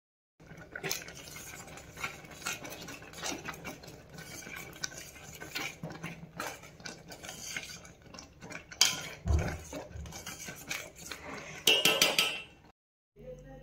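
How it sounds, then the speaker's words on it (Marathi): A spoon stirs thickening rice kheer in a pot, making repeated scraping and clinking strokes at a steady pace, close and moderately loud, with a few sharper knocks near the end. "चमच्याने सतत तुम्ही या खिरीला ढवळत राहा"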